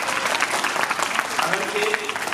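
An audience at a school parents' meeting on Guru Purnima claps together, a dense, sustained burst of applause that continues throughout, with a faint voice beneath it.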